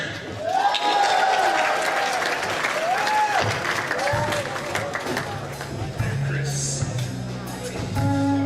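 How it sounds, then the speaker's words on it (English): Audience applause and crowd noise greeting a comedian at a stand-up comedy show at Anime Expo, a steady roar of clapping filling the room with some voices and cheers mixed in throughout. "welcoming round of applause for Chris!"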